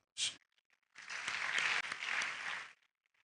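Convocation ceremony audience breaks into a round of applause, a short burst of clapping after a brief sharp sound, heard fairly faint and distant and ending abruptly.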